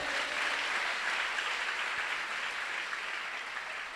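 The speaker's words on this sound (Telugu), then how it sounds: "కొట్ట చప్పట్లు ఒకసారి." A church congregation claps together in a hall, a dense, steady wash of many hands applauding at moderate distance, holding evenly throughout with no voices.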